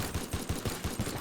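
Weapons firing in the destruction game Teardown, a rapid even burst of about eight muffled, booming shots close together.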